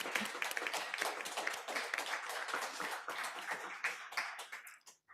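A room of people at a board meeting claps in a loose, uneven patter of individual hands, fairly close, tapering off toward the end.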